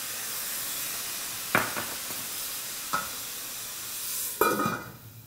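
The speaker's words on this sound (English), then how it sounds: "You should hear a definite sizzle" Steady hissing sizzle of burgers frying in a hot pan, punctuated by a few sharp bursts as they crackle and spit, with no talking.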